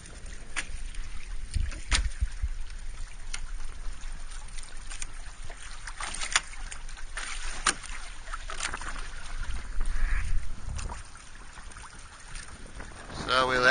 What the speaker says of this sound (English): Boat's sailing really nicely.